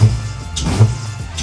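A Honda B-series car engine fitted with a custom 70mm velocity stack intake idles with a steady, low, even drone and a faint airy hiss above it. The engine is close and moderately loud, with no talk.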